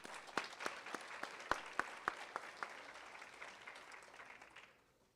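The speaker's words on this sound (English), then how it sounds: "So let's give these guys a round of applause." Audience applause at a high school awards ceremony, a scattered patter of claps with sharp individual hits that thins out and fades after about four and a half seconds.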